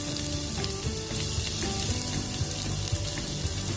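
Ginger sautés in a pan of butter and oil with a dense, constant sizzle and crackle, close and steady throughout with no voices.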